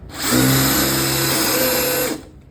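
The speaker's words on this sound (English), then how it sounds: "you just seat your drill bit in here and go to town" A cordless drill bores a hole with a drill bit while building a custom furniture base, and its motor whines steadily and loudly for about two seconds before stopping, with nothing else heard.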